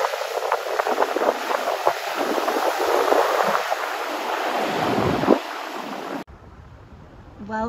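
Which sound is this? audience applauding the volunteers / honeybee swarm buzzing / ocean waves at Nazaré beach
ocean waves at Nazaré beach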